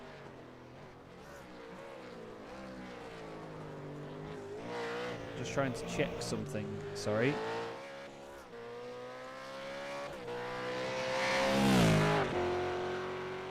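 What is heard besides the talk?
supercar engines racing in a video game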